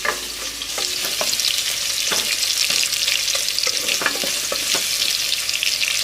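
Chopped tomato and onion sautéing in a pan for a chicken biryani, a steady close sizzle and crackle with scattered clicks of stirring throughout, no voices.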